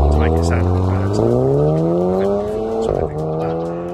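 A tuned car with a modified exhaust that has had one resonator removed and an induction kit revs up loudly and close, its engine pitch sweeping up, dipping and rising again, with voices over it.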